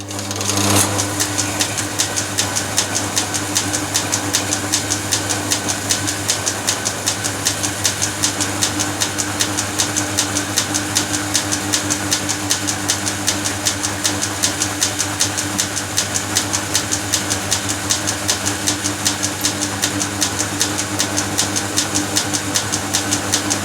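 A metal lathe runs steadily while an M4 x 0.7 thread is tapped in steel, giving a constant mechanical hum with a fast, even ticking rhythm throughout and no voices.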